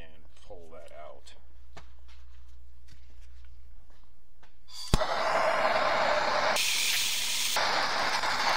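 Torch heating a shift rail pin on a Chevy Getrag HM290/NV3500 transmission, a sudden ignition pop followed by a loud steady roaring hiss, with someone talking quietly before it lights.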